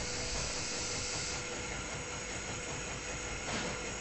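Train in the video game The Lost Crown, a steady rumbling hiss of a moving train with a faint tonal whine running through it, continuous and even, with no talk.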